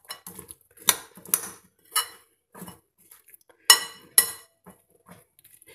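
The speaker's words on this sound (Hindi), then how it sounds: "अच्छे से मिक्स करेंगे अब हम इसे।" A spoon mixes corn chaat salad in a bowl, giving several clear scraping clinks and taps at an irregular pace, close and moderately loud, with quieter stirring between them.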